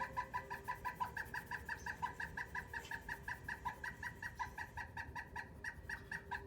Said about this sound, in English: Such a beautiful bird call.